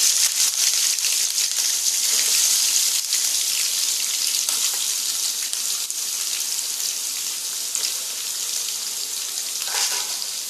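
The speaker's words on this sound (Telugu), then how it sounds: "Oil heat ఎక్కిందండి. పచ్చిమిర్చి, ఒక 4 పచ్చిమిర్చి హీట్ అవుతుంది." Four green chilies fry in hot oil, giving a loud, steady sizzle with a dense crackling hiss that runs unbroken from start to finish, with no voices.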